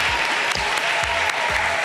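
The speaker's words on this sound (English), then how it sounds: "We're going to round of applause for everyone." Steady applause from an audience at an International Women's Day school outreach event, a dense even patter of clapping that holds at full level throughout with faint periodic low thumps underneath.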